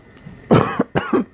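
A person gives two sharp coughs in quick succession, close and clear, with near silence around them.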